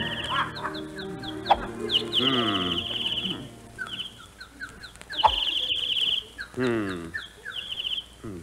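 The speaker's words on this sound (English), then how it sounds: "Darn those birds. I wish they'd stop singing." Chirping and clucking birds, sounding like chickens or fowl, call repeatedly and fairly close on a country club golf course, with scattered background noise around them.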